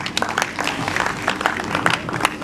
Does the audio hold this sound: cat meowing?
no